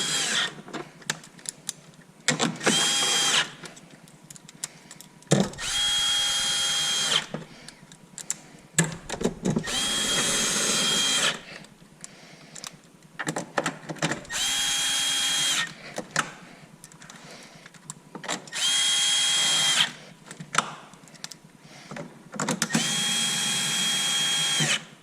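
Power drill driving screws while fitting a Hansshow power front trunk on a Tesla Model 3 with fender clips, in repeated bursts of high whirring a second or two long, close and loud, separated by short quiet pauses.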